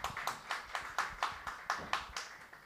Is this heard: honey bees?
no